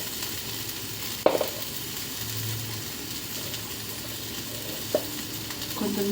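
Okra curry sizzling steadily in a pan as it fries, with a utensil stirring through it and a couple of sharp clinks against the pan, no talking.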